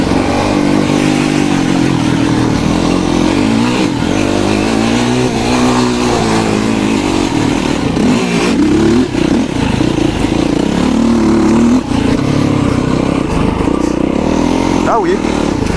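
Quad bike engine on a dirt circuit, loud and continuous as it accelerates and revs, with a steady roar filling the whole stretch and rising and falling pitch throughout.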